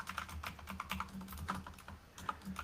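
Quick, light clatter of fingers typing on a computer keyboard, irregular keystrokes close to the microphone with short pauses, quiet and alone without talk.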